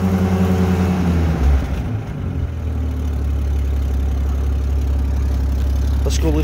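The engine of a 1944 M29 Weasel tracked vehicle runs through its muffler with a steady, close, low idling drone that briefly shifts in pitch early on, then settles into an even rumble.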